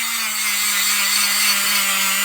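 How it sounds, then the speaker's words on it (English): A Dremel rotary tool bit grinds steadily on work on a 1961 Cadillac DeVille, a continuous high whirring rasp with a constant motor hum, close and unbroken with no talk. "that's the Dremel bit."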